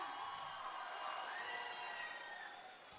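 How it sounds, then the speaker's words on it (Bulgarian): Audience applause and cheering fill the room at a music awards ceremony, a steady broad roar of clapping that fades slightly toward the end. "Вашите аплодисменти още веднъж"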